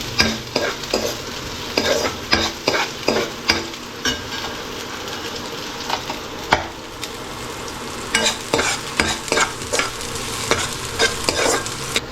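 Onions frying in oil until brown for a vegetable sambar, stirred with a utensil that scrapes and taps the pan in a steady rhythm over a soft continuous sizzle, close and clear, with no talking.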